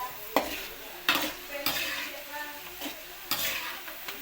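Pirandai (veld grape) roasting in a pan, with a soft continuous sizzle broken by several sharp scrapes and clatters of a spatula stirring against the metal.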